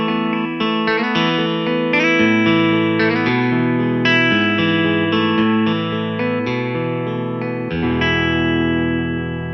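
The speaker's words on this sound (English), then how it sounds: "for example here, a clean guitar sound" A Yamaha Tyros5 keyboard's clean electric guitar voice plays a flowing melodic passage with chords, bright and sustained, with light reverb and chorus shimmer, no voices.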